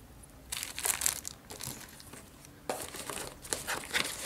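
Paper wrappers crinkle and rustle while a Motorola device is unboxed, in several close, loud bursts separated by brief quieter gaps, with no talking.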